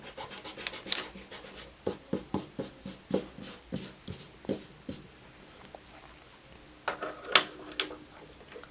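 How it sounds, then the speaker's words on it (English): A pencil eraser rubs across paper on a cartoon pig drawing, giving a run of quick, evenly spaced scrubbing strokes close by, which pause and then come back in a short louder burst. "erase all the pencil from there."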